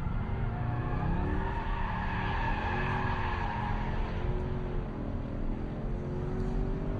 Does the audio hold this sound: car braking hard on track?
yes